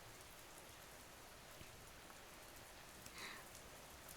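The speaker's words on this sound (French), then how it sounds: "C'est si agréable d'entendre la pluie tomber sur les vitres" Steady rain patters against glass, a soft continuous hiss with scattered droplet ticks and one brief brighter splash near the end.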